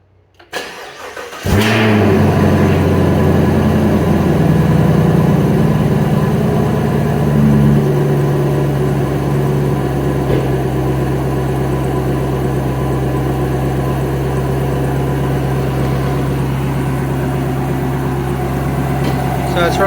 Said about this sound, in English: I'll start the engine, let it settle, and then check it again.